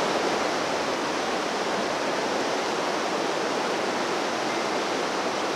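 Steady, loud rush of flowing water like a small waterfall or stream, a continuous broadband wash with no pauses or other sounds for the whole stretch.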